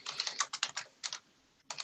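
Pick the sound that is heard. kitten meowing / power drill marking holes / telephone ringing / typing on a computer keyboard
typing on a computer keyboard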